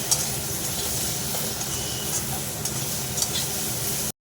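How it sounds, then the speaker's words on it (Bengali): Karamcha fruit, coated in turmeric and salt, fries in a pan with a steady, close sizzle and faint stirring scrapes, ending abruptly in silence. "ভালো করে ভাজা আমার হয়ে গেছে করম চাগুলো।"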